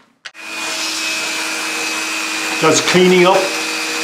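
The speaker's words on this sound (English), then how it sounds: "Diamond Dremel." A diamond bit on a Dremel grinding the legs of a lead figure: a loud, steady high-pitched motor whine that starts abruptly and holds throughout, with a brief spoken phrase partway through.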